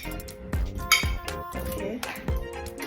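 Frozen raspberries and peach pieces drop into a blender jar with a series of hard clinks and knocks, several irregular impacts close up and fairly quiet.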